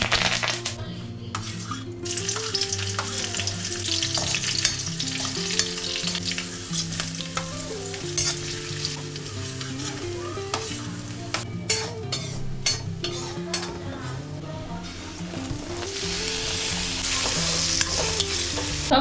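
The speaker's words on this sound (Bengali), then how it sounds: "সব সবজি ভাজা হয়ে গেছে।" Mixed vegetables sizzle steadily in a pan on a home stove while a spatula scrapes and stirs them, clinking against the metal, loud and close for the whole stretch with no talking.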